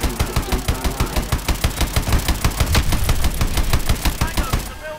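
A mech's main gun firing in the Call of Duty: Advanced Warfare campaign, a loud, rapid, evenly spaced automatic burst of heavy shots that runs nearly unbroken before cutting off at the end.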